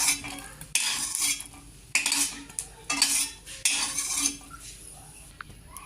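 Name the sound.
taking roasted green chillies off the pan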